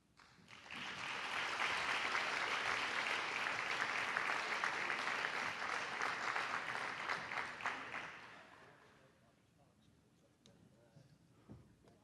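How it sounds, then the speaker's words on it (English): Banquet audience at a Hall of Fame dinner applauds a men's basketball team, a dense, steady wash of clapping that swells quickly, holds for about seven seconds, then fades into quiet room noise. "Let's give the men's basketball team a round of applause"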